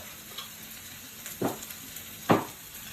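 Garlic sizzling in a hot pan for Korean fried rice, a steady soft frying hiss with two sharper spatter bursts as it is stirred or pushed around, close and alone with no talk.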